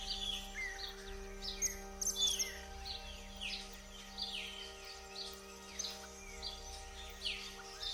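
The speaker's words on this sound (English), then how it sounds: "The birds are up and singing just like they have been every morning." Several birds chirp and warble in the morning at Porto Jofre in Brazil's Pantanal, repeated bursts of song over a steady background hum, moderately distant, with no voices.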